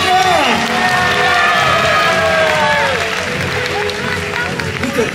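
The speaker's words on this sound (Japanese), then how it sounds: "みんな、この調子に拍手をしてやってくれ。" Crowd at a live stunt show at a theme park cheering and clapping, with shouting voices and whistles mixed into a continuous loud roar.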